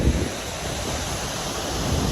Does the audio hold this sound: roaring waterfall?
yes